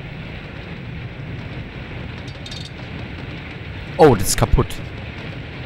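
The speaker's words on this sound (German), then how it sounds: "es fängt an zu regnen?" Steady rain hisses evenly throughout a scene in the game Limbo, with a voice speaking briefly over it near the end.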